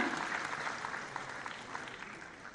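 Clapping rises from an audience at a civil service selection ceremony as an award recipient is welcomed, a fairly faint, even patter of many hands that tapers slightly toward the end.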